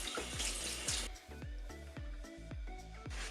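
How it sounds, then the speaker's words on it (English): Pork being washed under a running kitchen tap, water splashing steadily with a series of rhythmic slaps and gurgles as the meat is turned, fairly faint. "Now firstly we wash the pork under running water."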